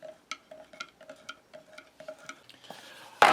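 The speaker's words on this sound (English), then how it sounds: "And we'll give this a stir." A spoon clinks against the cup while stirring coffee from a Taiwanese field ration, giving a quick regular series of light metallic ticks. A louder rustle or clatter closes it.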